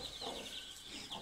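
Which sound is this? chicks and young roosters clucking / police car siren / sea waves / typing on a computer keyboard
chicks and young roosters clucking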